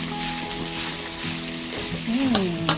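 Ginger sizzles steadily in a hot pan while sisig is being cooked, a continuous frying hiss with light stirring noises near the end.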